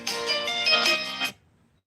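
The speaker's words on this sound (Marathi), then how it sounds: "सध्या तरी मला फोन आलेला आहे" A phone ringtone plays a short electronic melody, fairly loud and clear, then cuts off abruptly into near silence.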